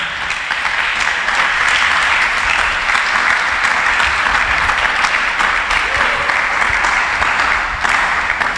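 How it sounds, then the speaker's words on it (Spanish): Church congregation breaks into sustained applause for the Lord during a sermon, a dense, steady wash of clapping held at full strength for several seconds. "¿Cuánto le dan un aplauso al Señor?"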